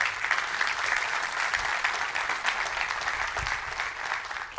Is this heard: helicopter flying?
no